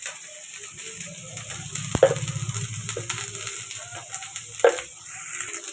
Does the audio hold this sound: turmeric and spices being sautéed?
yes